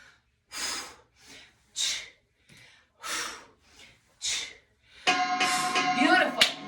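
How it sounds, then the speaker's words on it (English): A workout class's 10-second warning bell rings out loud and bright for over a second near the end, after a series of heavy, rhythmic exertion breaths and exhales. "here's our 10-second bell. We always get a 10-second warning."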